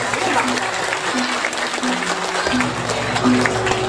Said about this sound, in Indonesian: tepuk tangan nih